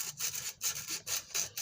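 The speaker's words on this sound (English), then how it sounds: "sanding" Hand sanding of the metal roof of an American Flyer #623 toy train, a quick, regular back-and-forth rasping of about a dozen close, soft strokes.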